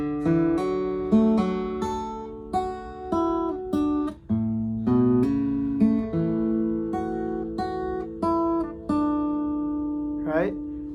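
Acoustic guitar picking an intro, close and clear single-note plucks ringing over each other in a steady, unhurried pattern, played alone with no voice.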